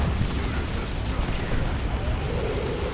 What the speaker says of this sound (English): there's just chaos everywhere, explosions, gunfire, tanks shooting